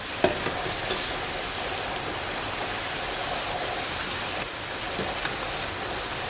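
Onion bhaji (kanda bhaji) fry in hot oil on a wood-fired chulha during heavy rain, a dense, even, loud crackling sizzle with small pops throughout.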